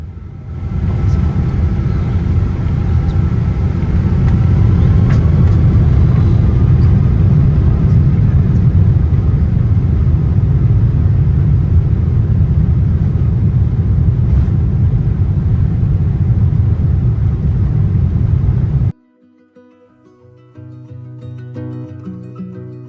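An airliner taking off from London Heathrow on a wet grey morning, heard from inside the cabin as a loud, steady engine roar and rumble that cuts off abruptly near the end.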